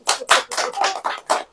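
A church congregation claps in a quick burst of about six sharp, evenly spaced claps, close and fairly loud, with no talking over them.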